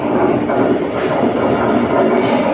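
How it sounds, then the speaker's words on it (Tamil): The Kochuveli Express arrives at a railway junction in India, its loud, continuous rumble and rattle of rolling carriages heard up close throughout. "கரெக்டாக ட்ரெயின் வந்துங்க பதினொன்று ஐம்பதுக்கெல்லாம் வந்துருச்சுங்க"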